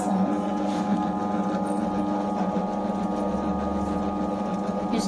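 Tilt wet grinder running while mixing chapati flour with oil and salt: a constant whirring mechanical hum with a faint rhythmic rattle, close and steady throughout.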